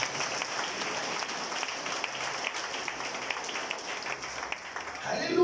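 A church congregation applauds together in sustained, even clapping that stays steady throughout and swells slightly at the end.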